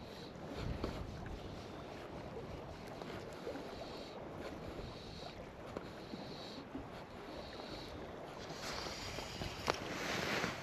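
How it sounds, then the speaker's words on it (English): Steady wind buffets a boat out fishing on Loch Doon on a damp, blustery day, a broad rushing roar with gusts and faint water movement throughout, no voices. "There's still the wind there."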